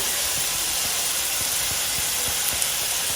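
Spices with salt, coloured powder and tomatoes frying in hot oil in an Assamese home kitchen, giving a steady, loud hiss with faint irregular crackles throughout and no talking.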